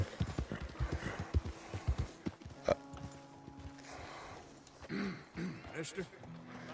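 Tennessee Walker horse hooves in Red Dead Redemption 2, a series of clip-clop footfalls in an uneven walking rhythm, close and fairly clear, with someone talking over parts of it.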